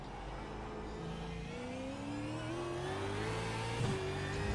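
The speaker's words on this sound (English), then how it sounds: "We're in the Ford Mustang, the supercar." The Ford Mustang supercar engine in iRacing holds a steady, close drone that climbs slowly in pitch as the car accelerates, with a brief bump near the end. No one talks.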